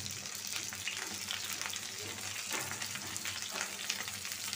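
Tomatoes, eggplant, garlic, Malabar spinach leaves and small fish fry in a pan, giving a faint, continuous sizzle with light crackles and a few stirring sounds.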